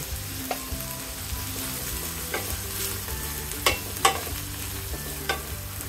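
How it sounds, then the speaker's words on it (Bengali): Ingredients for Kashmiri polao frying in a pan with sugar, a soft steady sizzle with occasional sharp clicks of a spoon stirring against the metal, close and fairly quiet. "দুই মিনিটের মতো আমি ভেজে নিয়েছি"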